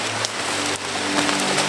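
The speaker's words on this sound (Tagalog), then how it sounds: "Ulan, sobrang ulan tol. Lakas na ulan talaga." Heavy rain pours steadily onto a surface, a dense, loud and continuous hiss of drops with no pauses or voices for the whole short stretch.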